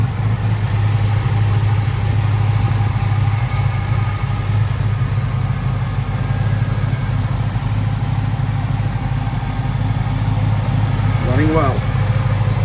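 A 1968 Pontiac Firebird with a Demon carburetor idles in a steady, rumbling drone close up, while someone talks over it.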